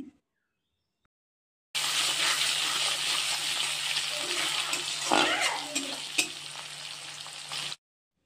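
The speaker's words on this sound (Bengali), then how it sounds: "তারপর তেজপাতা, শুকনো লঙ্কা আর পেঁয়াজ কুচি দিয়ে ভালো করে লাল লাল করে ভেজে নিয়েছি" Onions, bay leaves, dry red chillies and whole spices such as cardamom, cloves and cinnamon fry in mustard oil for chicken kosha, a loud, steady close sizzle that starts suddenly after silence and cuts off near the end.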